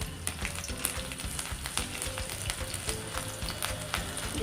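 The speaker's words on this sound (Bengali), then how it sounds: "প্রথমে কড়াইতে তেল গরম করে নিয়েছি, এবার দিয়ে দিচ্ছি কুচি করা লঙ্কা" Chopped green chillies hit hot oil in a wok, setting off a continuous close crackling sizzle with dense popping spatter that holds steady throughout.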